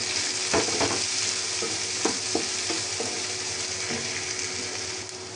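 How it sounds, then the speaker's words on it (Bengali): Chopped onion and garlic lightly frying in oil in a pan, a steady close sizzle with a few scrapes and stirring knocks, and no talking. "এটা একটু আমি হালকা ভেজে নেব।"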